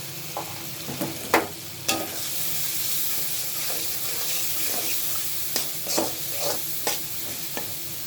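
Spice paste of chili, turmeric and salt stir-fried in a pan for a drumstick curry with mustard paste, a constant sizzle broken by scraping stirs and spatula knocks.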